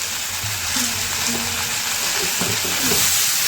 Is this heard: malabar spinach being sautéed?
yes